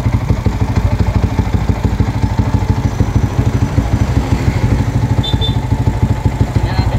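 A Sniper 180cc motorcycle engine runs close and loud after a new magneto install, its rapid even exhaust pulses beating steadily with a slight mechanical clatter and no talk.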